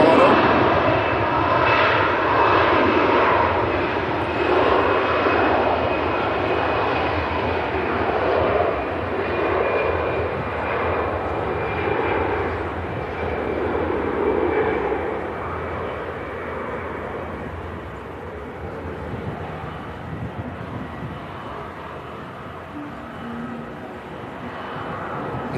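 An EasyJet airliner departs Manchester Airport, its jet engines a steady broad roar heard at a distance that slowly fades over nearly half a minute, with a voice talking over it.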